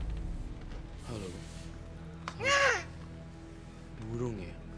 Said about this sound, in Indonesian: Kayak burung yang tadi suaranya, burung gagak yang di ruang sana.